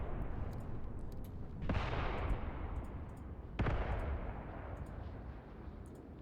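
Spandau machine gun crews firing in the Graviteam Tactics war game, with two sharp, heavy reports that roll off into a loud, sustained battlefield din of distant shots.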